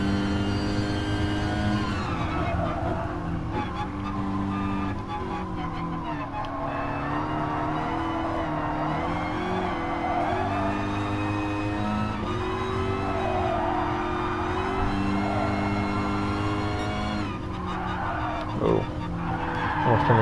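Race car tires skid and squeal under braking oversteer in a sim racing game, layered over a constant loud engine drone with rising and falling revs, briefly sharper near the end.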